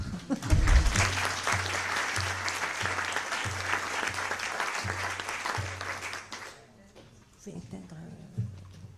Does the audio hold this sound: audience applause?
yes